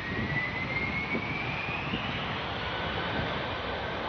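Six Lotarev D18 turbofan engines of an Antonov An-225 spool up in a steady, loud roar with a rising whine, continuous throughout and with no talk.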